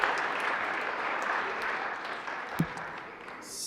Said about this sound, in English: Just want to give her a round of applause and thank you for the work she's done.